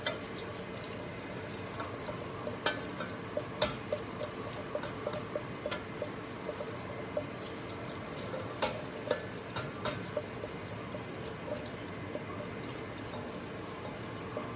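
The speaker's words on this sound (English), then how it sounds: "Just keep stirring on it." Cream cheese is stirred as it melts in a pan over medium heat, a steady soft bubbling sizzle broken by faint scattered ticks and scrapes of the spoon against the pan.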